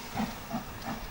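A steam engine hissing in soft, repeated bursts, about three gentle surges of breathy noise over a steady low hiss, moderately close with no talk.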